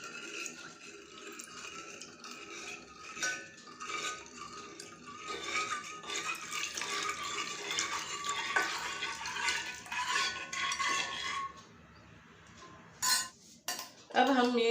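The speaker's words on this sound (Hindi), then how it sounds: "इसमें हम डाल देते हैं दूध। आपको जितना ग्लासेस बनाना है उतना आप डालिए और इसे मिक्स करते जाइए" A spoon stirs milk into a dessert premix in a pot, giving steady scraping clinks of metal against the vessel, close and fairly loud throughout, with a few sharper knocks near the end and no talking.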